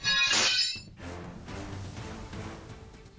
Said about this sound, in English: the driver hits the gas instead of the brake, crashing straight through a salon window